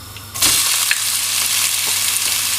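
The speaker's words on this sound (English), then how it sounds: "that's the sound you want to hear, and you know your oil is ready." Chopped onion drops into hot oil for a Quorn curry, setting off a sudden loud, steady sizzle that begins after a brief quieter moment and continues unbroken to the end.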